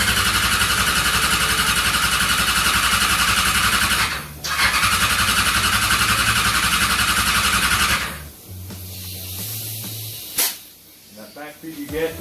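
Micro sprint methanol engine cranked to start after the fuel rail is pressurized, giving a loud, steady, raspy whirring drone that runs several seconds, breaks briefly, resumes, then cuts off into sputters, hissing and scattered clatter.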